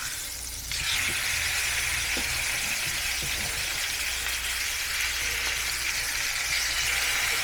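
A salmon fillet sears in a hot pan after being flipped, giving a loud, continuous hiss that surges in just under a second and holds steady and close throughout, with no talk.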